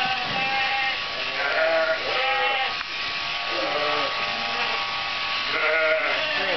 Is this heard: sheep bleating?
yes